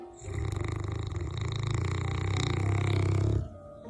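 A dog snores loudly and steadily close by, a deep rumbling drone that holds for several seconds and then stops abruptly, with no voices over it.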